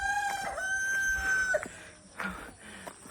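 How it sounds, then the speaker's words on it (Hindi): A rooster crows a long, ringing cock-a-doodle-doo at moderate distance in Komsing village, Arunachal Pradesh, followed by a few softer clucks and rustles. "मुर्गा बांग दे रहा है"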